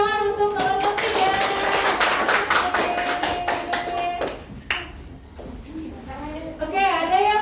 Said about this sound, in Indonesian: Kasih tepuk tangan untuk kelompok 3.